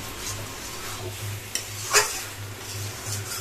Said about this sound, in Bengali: যতটা আমরা এখানটা বেগুনটাকে কষাবো মাংসের মতো